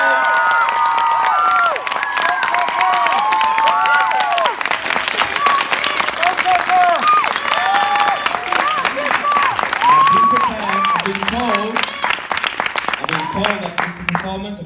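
A large crowd at a live music event roars with applause and cheering for a singer, dense and sustained throughout, with shouts and whoops cutting through the noise.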